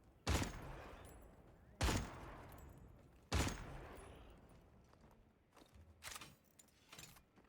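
Heavy bowgun firing spread ammo in Monster Hunter Wilds: three loud, evenly spaced booming shots with long decaying tails, then two weaker blasts near the end, no talk.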